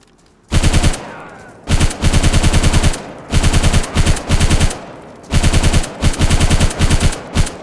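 Rapid bursts of suppressed automatic gunfire in the video game DayZ crack in several loud volleys, each a rattling string of shots separated by short pauses.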